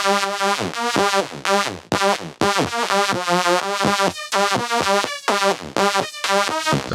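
A wavetable synth with PWM warp mode swept by an LFO plays a bright, aggressive buzzing riff of short staccato notes, its harmonics shifting as the pulse width moves, loud and alone without speech.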